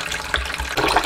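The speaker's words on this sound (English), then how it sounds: "So, we just add the water in." Tap water runs into a container in a continuous splashing gush, close and fairly loud, with no talking.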